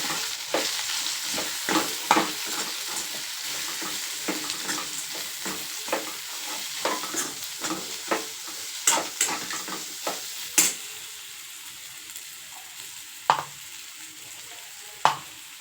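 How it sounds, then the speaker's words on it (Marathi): A spoon stirs red chili and coriander powder into bitter gourd frying in a pan, producing a steady soft sizzle punctuated by repeated close scrapes and sharp clicks against the pan, no talking. "एक चमचा लाल मिरची लाल मिरची धने पावडर टाकून हलवून घ्यायचं"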